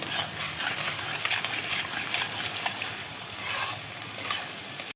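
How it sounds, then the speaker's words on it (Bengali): Spice paste with salt frying and being stirred in a pan for a rohu fish curry, a continuous crackling sizzle close by with scraping stir strokes, alone without voices. "ভালো করে দেখো মশলাটা কষিয়ে নেবো"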